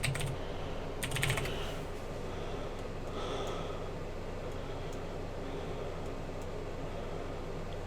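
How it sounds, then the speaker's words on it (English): Someone types on a computer keyboard at a desk while setting up a thumbnail design in Photoshop, a faint run of soft key clicks with a louder burst near the start over steady background hiss. "let's just type in video editing"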